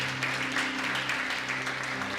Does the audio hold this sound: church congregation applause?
yes